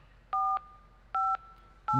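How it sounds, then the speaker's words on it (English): Telephone keypad DTMF dialing tones from an automated phone directory system, three short dual-tone beeps at a steady, evenly spaced rhythm, clear and close with no talking. "that's the sound of a phone call being made"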